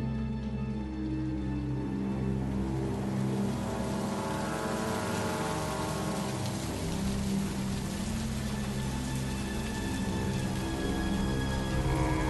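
Steady rain as a sound effect behind a spooky Halloween tale, a continuous wash of falling water layered with a sustained low tonal drone, even in loudness and with no voices.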